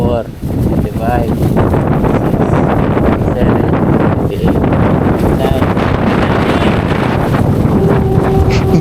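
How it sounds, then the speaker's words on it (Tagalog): Strong wind and pouring rain lash a small fishing boat at sea, a loud, continuous roar of gusting wind buffeting the microphone with rushing rain beneath it, unbroken for several seconds. "sumabay na po ang buhos ng ulan tsaka ihip ng hangin na malakas"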